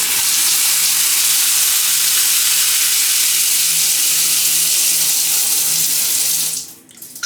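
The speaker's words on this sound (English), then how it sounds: "Water pressure test when you're not sure which one it's going to come out of." A hotel bathroom shower runs at full pressure, a loud, close, steady rush of water that cuts off abruptly near the end.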